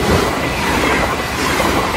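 A moving train rumbles loudly and continuously, with the dense rattle and clatter of rail carriages over the tracks, close and steady.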